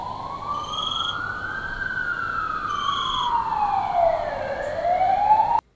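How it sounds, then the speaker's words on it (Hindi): An ambulance siren wails steadily, its pitch sliding slowly up and down in long sweeps, loud and continuous until it cuts off abruptly. "क्या तुम्हें एम्बुलेंस का सायरन सुनाई दे रहा है"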